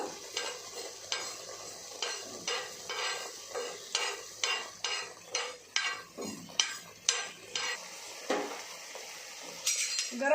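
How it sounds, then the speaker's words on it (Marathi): Fennel seeds roasting and being stirred with a spoon in a hot pan: a steady run of distinct scraping, clinking strokes in a regular rhythm over a faint sizzle, close and fairly loud, with no talking. "थोडीशी बडीशेप भाजून घेऊ थोडीशी अर्धा मिनटं भाजायची"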